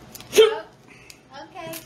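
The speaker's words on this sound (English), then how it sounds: "here comes the hiccups." A single hiccup from someone after eating an extremely hot tortilla chip, one sharp voiced catch near the start, with faint voices and small mouth sounds around it.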